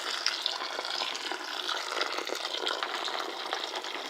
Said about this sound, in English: I'm going to put some hot water in it. Oh my goodness, you can hear it hissing away.